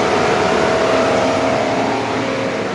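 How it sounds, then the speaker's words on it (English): Mercedes W222 S350 CDI engine cooling fan stuck on and spinning at full speed, a loud, steady whooshing roar with a faint tonal whine that holds constant throughout. "As you can hear, cooling fan spinning."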